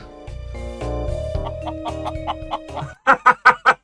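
A chicken clucks in a Minecraft movie, with a run of tonal synthetic notes building up before four loud, evenly spaced clucks close together at the end.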